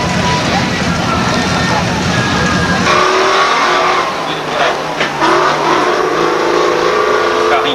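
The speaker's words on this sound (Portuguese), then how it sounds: "Carro inglês com motor de 6 cilindros." An English classic race car with a six-cylinder engine roars at a 1988 classic formula event at Interlagos. The loud, close engine drones and revs while a commentator talks over it.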